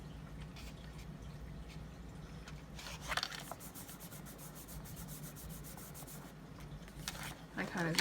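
Paper card folds are rubbed down with a burnishing tool in a few scraping strokes, close and fairly soft, with a faint steady hum underneath.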